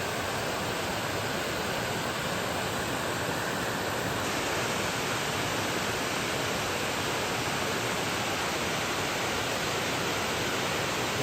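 Winter waterfall at Upper Joffre Lake roars as a constant, dense broadband rush that stays even and loud from start to finish, with no voices or other sounds breaking through.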